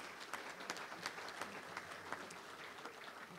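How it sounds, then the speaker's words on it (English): Fairly faint, dense applause from a luncheon club audience honoring the check-in staff, a steady patter of many hands clapping with a few louder claps standing out. "Let's give them a round of applause,"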